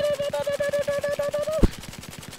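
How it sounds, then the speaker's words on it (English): Gunfire from a gun in Battlefield 4 comes as a rapid, evenly spaced automatic burst of loud, close shots, with a steady tone running under it, then ends in a single heavy impact followed by quieter trailing fire. "Dude, this gun sounds so cool"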